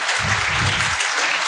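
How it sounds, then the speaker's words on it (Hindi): A studio audience at a Pakistani Ramzan iftar transmission claps steadily, a dense, close burst of applause lasting the whole moment with no speech over it. "मुझे अब तालियों की आवाज़ आनी चाहिए जी"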